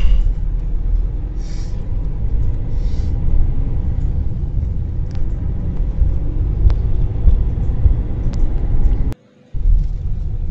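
A vehicle cruises along an empty road toward the Kasimedu fish market. A steady, loud low rumble of engine and road noise runs throughout, with one brief dropout near the end.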